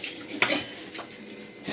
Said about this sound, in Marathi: बहिणी ज्योती घासते भांडे